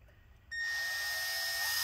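A drill bores starter holes in a Dell Inspiron 5575 laptop during disassembly: after a quiet start, a sharp, high-pitched whine kicks in and holds steady and loud, close to the microphone.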